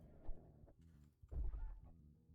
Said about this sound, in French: il leur faut 2 coups de couteau à ces poules